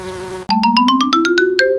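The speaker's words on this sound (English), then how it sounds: "Buzz! Buzz! The happy bee is flying!" A loud, cartoonish electronic buzzing that pulses rapidly and slowly rises in pitch, like a playful bee sound effect.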